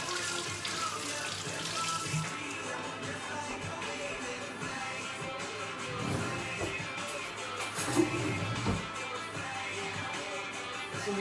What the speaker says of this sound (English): I just scrub it out with just water, no soap.